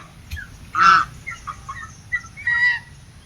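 Several short nasal honks and quacks from waterfowl, spaced irregularly, fairly close, over a background of steady rain.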